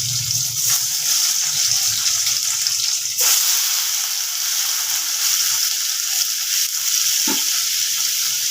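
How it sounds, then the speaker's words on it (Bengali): Hot oil crackles and sizzles steadily while pieces of paneer fry, with an occasional stir or clink; the sizzle swells briefly midway. "আস্তে আস্তে করে দিয়ে ভেজে নেব"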